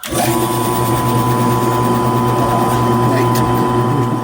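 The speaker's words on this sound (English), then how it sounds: "he's going to drill the pilot hole first" A drill bores a pilot hole into a log at a small sawmill, giving a loud, steady, close-up motorized whine that holds without a break for the whole stretch.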